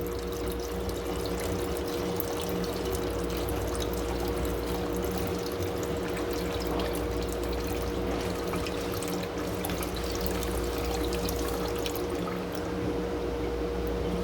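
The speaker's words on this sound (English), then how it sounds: "And slowly pour in the K-Reducer." Paint reducer pours into paint in a steady, continuous stream over a constant mechanical hum, with no talking.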